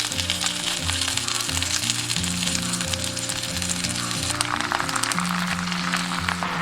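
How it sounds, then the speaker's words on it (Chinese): Eel pieces sizzle and fry in hot oil in a clay pot with shallots, garlic and ginger, a steady close crackle running throughout, with background music underneath and no talk. "加入鳗鱼。"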